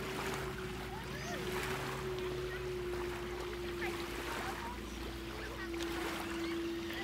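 Gentle lapping of small waves on Jordan Lake, stirred by passing boats, with a steady distant motorboat drone running throughout, soft and continuous with no voices.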